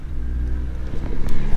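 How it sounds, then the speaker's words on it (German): An Audi 80 driving to a classic car meet, heard from inside as a steady low engine and road rumble that swells slightly toward the end, loud and close with no voices. "Unterwegs, wie immer, in meinem Audi 80."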